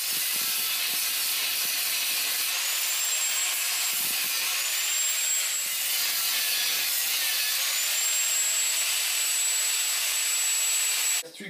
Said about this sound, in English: I just use the grinder, the 4-inch angle grinder with the cutting wheel, and we'll cut them out